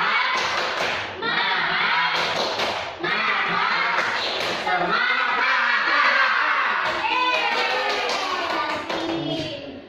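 A classroom of children doing the 'tepuk semangat' clapping routine, with loud rhythmic claps mixed with energetic group chanting and shouting voices filling the room throughout.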